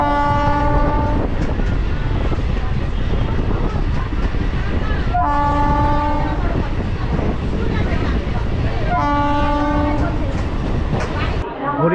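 Train departing Barrackpore station on the Sealdah line, with a loud close horn blasting three times in long sustained honks over the constant rumble and rattle of the moving carriages.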